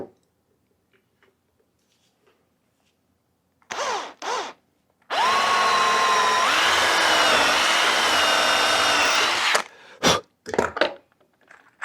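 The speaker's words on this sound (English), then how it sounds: "There's the drill. And let's get this hole drilled." A power drill bores a hole through wood for a sewing machine table, starting with two short bursts and then running steady and loud for about four and a half seconds, its pitch shifting as the bit bites, followed by a few quick clicks.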